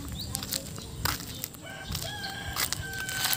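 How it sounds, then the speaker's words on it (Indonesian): A rooster crows in the morning beside a rice paddy and irrigation ditch in rural Malaysia, drawn-out calls repeating over steady background birdsong and clucking from other fowl, moderately distant. "Kukukan ayam di pagi-pagi sangat indah"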